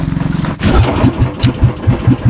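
A fishing boat's engine chugs in a rapid, steady putter that shifts into slower, heavier low thumps, loud and close.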